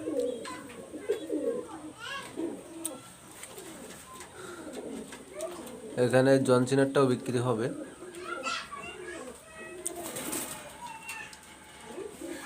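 Pigeons coo in a loft of fancy breeds such as golden and Kamagar pigeons, soft repeated rumbling calls rising strongly mid-way while someone talks over them and children can be heard in the background.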